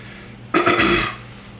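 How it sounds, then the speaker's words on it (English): A single loud, drawn-out burp after swallowing liquids, close up and lasting about half a second before fading back to quiet room tone. "I just swallowed a bunch of liquids before I did this video, so I don't want to burp on set"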